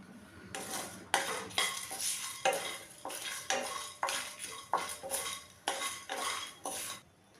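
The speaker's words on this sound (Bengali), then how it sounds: "এলাচ, দারচিনি, লবঙ্গ আর কয়েকটা গোলমরিচ আমি একটু শুকনো খোলায় ভেজে নেব।" Cardamom, cinnamon, cloves and peppercorns dry-roasted in an empty pan for ghugni: about a dozen rhythmic scraping strokes of a utensil against the metal, close and clear, with no talk.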